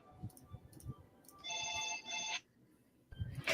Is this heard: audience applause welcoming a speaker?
no